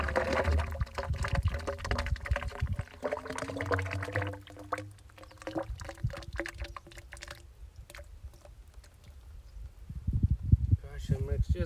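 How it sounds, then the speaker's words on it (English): Thick slurry glugs and splatters as it is poured into a hole for a soil probe install, with wet plopping bursts, while a person talks over it. "We're gonna go ahead and pour this into the hole."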